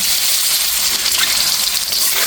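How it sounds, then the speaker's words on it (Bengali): A duck egg sizzles in hot oil with a little turmeric and salt in a wok, a loud, steady, close hiss of frying with no voices over it. "এখন ডিমটা ছেড়ে দিলাম। হাঁসের ডিম তো হালকা করে ভেজে নেব।"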